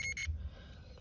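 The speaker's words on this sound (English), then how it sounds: "adjust the settings of your multi-tester so that when you touch the ends, it's going to beep like this" A multimeter set to continuity mode gives a short, bright electronic beep as its probe tips touch, the tone lasting a fraction of a second before cutting off into quiet room noise.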